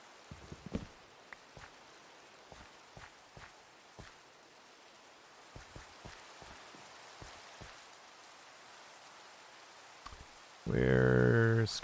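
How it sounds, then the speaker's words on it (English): Faint, steady rain in the video game The Citadel, with scattered soft ticks and taps over the patter, before a sudden loud tonal burst cuts in at the end. "Rain again."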